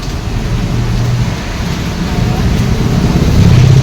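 Steady rain pours down on a street while traffic rumbles continuously underneath, a dense, loud wash of hiss and low engine noise with no pauses.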